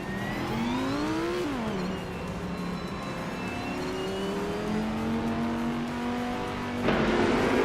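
A 2021 Ford Mustang racing in a video game, its engine revving and droning steadily with a sharp gear shift early on and another surge near the end, loud and close, with no talking.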